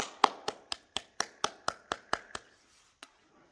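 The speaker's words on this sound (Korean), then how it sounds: "우리 하나님께 영광의 박수 드렸으면 좋겠습니다" A church congregation claps in unison during a worship service, about ten sharp, evenly spaced claps that fade out, followed by one lone clap after a pause.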